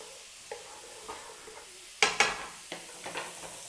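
Green chilies and garlic frying in a pan for a garlic chili chicken curry, a soft steady sizzle punctuated by scattered stirring scrapes and a couple of sharper clinks of a utensil, close and without voices.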